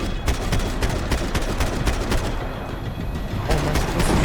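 Pistol fire in the action video game Max Payne 3 comes as a dense run of sharp, loud shots in quick succession, with game effects and a faint voice mixed in.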